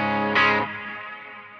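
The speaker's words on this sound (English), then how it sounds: "if I want less reverb, I bend down and turn it down" Electric guitar played through a wet-dry reverb rig with effects pedals, a single strummed chord swelling then ringing out into a long, gradually decaying reverb tail, clear and fairly loud with no talking.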